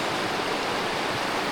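A mountain stream flows steadily nearby at a river where people fish, a dense, constant rush of water that stays loud and even throughout, with no voices.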